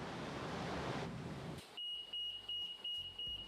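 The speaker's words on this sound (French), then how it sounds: "Oh, qu'est-ce que c'est? C'est le réveil." An alarm clock rings aboard a racing sailboat at sea: a steady high electronic tone sounds in repeated pulses after a burst of rushing wind and water noise, with low hull thumps beneath.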